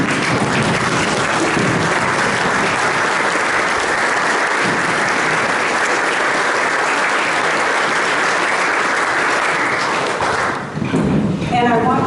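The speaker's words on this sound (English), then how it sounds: "let's stand and give him a round of applause" Club members rise for a standing ovation, sustained loud clapping from a crowd filling the room for about ten seconds, fading near the end as a voice begins talking.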